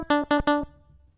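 A future deep house lead synth preset in FL Studio 12 plays three short, bright plucked notes in quick succession, each bursting with rich harmonics, then a soft fading tail and silence.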